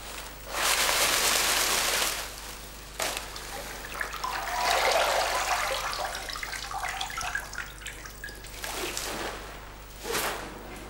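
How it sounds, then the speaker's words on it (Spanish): Bundled dried tobacco leaves are dipped and wetted in water by hand, giving soft splashing and running-water washes in a few bursts, fairly faint with quieter dripping between. "Susana las moja en agua agrupadas en gavillas."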